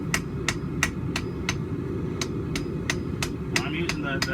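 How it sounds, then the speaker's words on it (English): Regular light hammer blows from the half ball side of a half ball peen hammer on a forge weld scarf, sharp metallic rings repeating about every third of a second over a steady roar from the forge fire. "I'm using the half ball side of this half ball peen right around my scarf"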